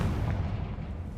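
A Confringo spell explosion goes off in a Harry Potter video game as a single deep, rumbling boom that stays heavy and low and slowly fades over about a second.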